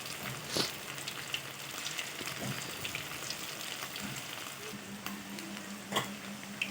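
Chicken pakoda pieces fry in oil with a soft, continuous sizzle and hiss, broken by a couple of faint pops and crackles.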